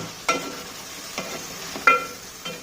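Chicken frying in a pan with turmeric, four spaced scraping stirs over a faint, steady sizzle, fairly quiet with no voices.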